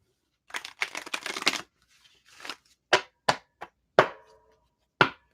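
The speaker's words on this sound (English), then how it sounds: "shuffle up for Susie Q." Tarot cards are shuffled and riffled close up in a quiet room, one long ruffling burst followed by a few short, crisp taps and snaps as the deck is squared.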